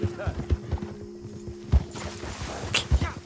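Horse hooves clip-clopping in the online mode of the video game Red Dead Redemption 2, a steady walking rhythm of hoof falls under someone talking over it.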